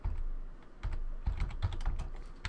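Short bursts of quick, close clicks come from a computer keyboard as a folder name is typed, with brief pauses between the runs of keystrokes.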